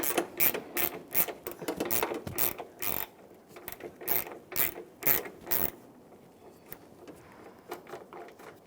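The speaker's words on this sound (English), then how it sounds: "I'm just using 1/4" drive, so there's a little more finesse." A 1/4-inch drive ratchet with a 10mm socket works headlight mounting bolts on a 2000-2006 Toyota Tundra, giving close, rapid bursts of clicking for several seconds before going quiet.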